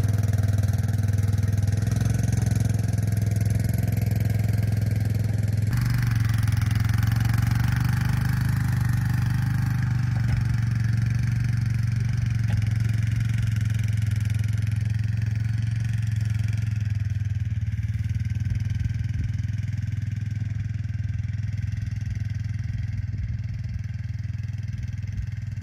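A four-wheeler ATV engine runs steadily at close range while towing a chicken tractor at night, holding a low, even drone with slight shifts in pitch and no speech.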